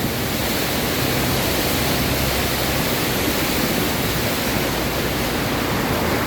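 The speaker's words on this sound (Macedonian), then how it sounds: "Целата вода од улица ни доаѓа." Floodwater pouring from the street into the East Gate Mall in Skopje: a loud, dense, continuous rushing roar like a waterfall, unbroken and without any voices over it.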